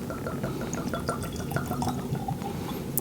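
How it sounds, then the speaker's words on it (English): Old Ezra 7 Year Barrel Strength bourbon is poured into a glass, giving a close, quiet run of liquid trickling and dripping with small glassy splashes over a faint background hum. "gonna get a pour right here"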